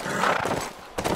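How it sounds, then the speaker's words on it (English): A horse in The Last of Us video game gives a loud, close whinny followed by clopping hooves, with a second burst of hoof sounds near the end. "let's get back on the horse"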